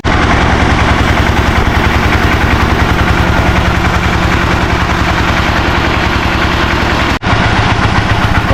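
A water-well drilling rig boring into the ground runs loudly and steadily, its rapid rhythmic hammering pulses close by, with one brief dropout near the end and no talk.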